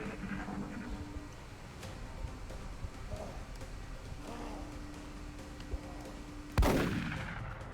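A laser weapon fires once in the XCOM: Enemy Within video game, giving a sharp, loud zap that hits a zombie and fades over a low game background hum.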